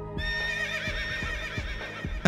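A horse in the video game Princess Peach: Showtime! gives a long, wavering whinny over a steady musical backdrop, with a few soft hoof clops beneath it.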